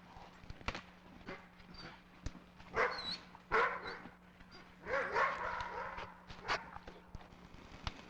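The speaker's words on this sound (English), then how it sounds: "You're gonna be a big sled dog." Sled dogs in the Yukon bark and yip in short bursts, some close and some farther off, over a quiet background with occasional thumps and whimpers.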